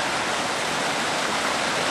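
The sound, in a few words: swiftly flowing water running across exposed bedrock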